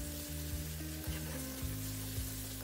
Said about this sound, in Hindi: धीरे आँच पे भूनूंगी और नमक भी डाल दिया ताकि टमाटर हमारा अच्छे से गल जाए